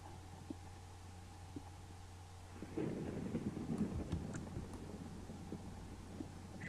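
Thunder in a Minecraft survival game rolls in as a faint, low, crackling rumble that starts suddenly partway through and keeps grumbling quietly over a steady background hum.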